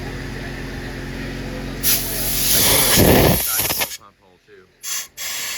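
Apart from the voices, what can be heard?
compressed air blowgun cleaning engine block holes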